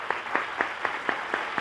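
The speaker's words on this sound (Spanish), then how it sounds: "con un aplauso para Carmen" Evenly spaced claps, about seven over under two seconds, from a television quiz show studio audience applauding contestant Carmen, moderate in level with a rhythmic, somewhat thin texture.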